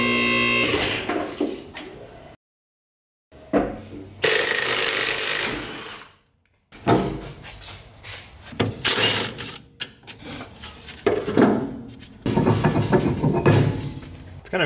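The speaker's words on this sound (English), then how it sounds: "let's get this knuckle off" Hand tools work on the steering knuckle of a Mazda RX7 FC with aluminum hubs, giving bursts of ratcheting, scraping and metal clatter separated by short silences, fairly close and loud throughout.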